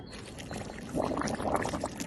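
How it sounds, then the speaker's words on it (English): Water gurgles and bubbles through the no-return valve of a Trobolo WandaGO composting toilet in a camper van, with close, continuous burbling that swells midway, heard alone. "now it's only bubbling because it's empty underneath"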